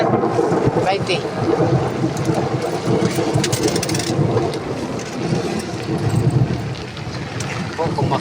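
A storm in Calbayog, Philippines: heavy rain roars without pause while thunder rumbles low and steadily underneath, and a voice is faintly audible within the downpour.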